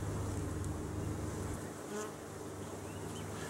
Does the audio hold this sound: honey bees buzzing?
yes